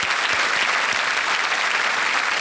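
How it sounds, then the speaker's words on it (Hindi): Dense studio audience applause on a televised quiz show stage, a steady wash of many hands clapping loudly and continuously with no talk over it. "तालियों के साथ उनका अभिनंदन करते हैं।"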